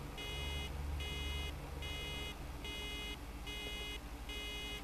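A warning beep in Farming Simulator 2013 repeats in a steady on-off pattern, about six evenly spaced electronic tones, fairly quiet over a low engine-like rumble with no talking.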